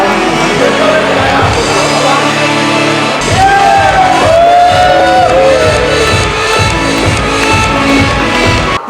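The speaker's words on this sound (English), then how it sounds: "Let's applaud for our winners." Loud crowd at a tyre company's annual meet shouting and whooping for award winners, dense cheers and yells with clapping underneath, sustained throughout.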